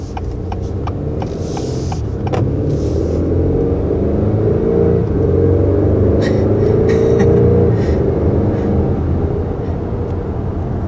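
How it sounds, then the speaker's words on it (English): A 2021 Acura TLX Advance sports sedan's 4-cylinder engine revs with a deep, steady rumble that swells and eases while driving, loud and close, with faint clicks from the cabin. "A nice deep tone as well for a 4-cylinder"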